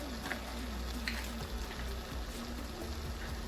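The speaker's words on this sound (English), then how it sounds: "you want to saute your tomatoes like really good" Tomatoes sauté in a pan with a soft, continuous frying crackle, fairly quiet and uniform throughout, with no voices.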